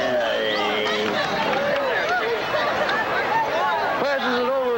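A basketball game crowd fills the space with loud, continuous babble, scattered shouts and whistle-like cries rising and falling, with no single voice standing out.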